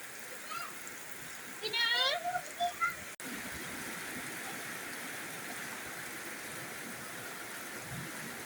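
Steady rain hiss from heavy rain falling fills the clip, with a few brief voices or sounds early on before the rain continues alone and evenly.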